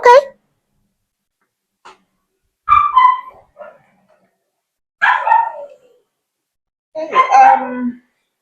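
A small dog at a pet spa gives several sharp, loud barks and yips in short bursts separated by pauses, close and clear.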